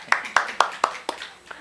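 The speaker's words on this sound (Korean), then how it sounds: "우리 한 번 더 박수 한번 해주세요." A church congregation claps in a few sparse, irregular bursts during a Korean sermon about the feasts of Passover, Pentecost and Tabernacles, with a handful of distinct loud claps spaced apart.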